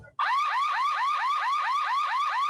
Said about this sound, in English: The alarm went off around 4:30 this morning.